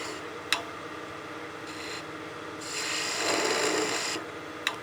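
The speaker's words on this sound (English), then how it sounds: "we'll be using the skew to do a slicing cut, V-cut basically, to cut this off" A skew chisel making a slicing V-cut on a small wooden mushroom ornament spinning on a wood lathe, a steady close rasping hiss with the motor's hum beneath and a couple of sharp ticks.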